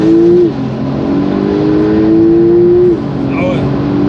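An 800 hp Porsche GT Street R pulls hard from a standstill, its engine note climbing steadily through the gears with a shift break, loud and close from inside the car.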